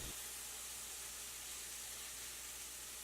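Steak for a stir fry sizzles in a pan over high heat, a steady, even hiss with no breaks, moderately quiet and close, with no talking over it.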